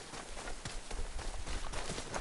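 Horse hooves clip-clopping in Ghost of Yotei, a quick, uneven patter of close hoofbeats at a trot or canter, moderately loud, with no voices.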